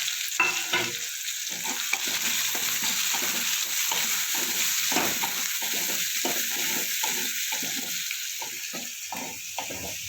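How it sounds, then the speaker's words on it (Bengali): Chopped onions and green chillies fry in a pan, a steady sizzle broken by repeated scraping stirs at a close distance, with no talking. "পেঁয়াজটা আমার ভাজা হয়ে গেছে"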